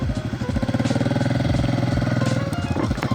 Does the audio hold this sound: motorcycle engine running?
yes